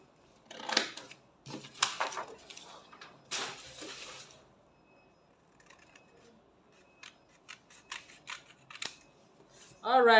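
Scissors snip through a paper sewing pattern in several short bursts of crisp cutting near the start, then lighter clicks and rustles follow, close and fairly quiet.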